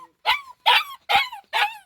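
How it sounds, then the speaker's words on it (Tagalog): Dogs bark outdoors in the Philippines, four sharp, evenly spaced barks, loud and close, with no talk over them. "Mga aso dito ha?"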